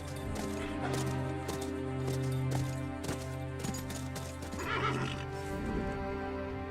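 A horse in the western game Call of Juarez neighs loudly and repeatedly over a steady droning background, with hoof clip-clop mixed in.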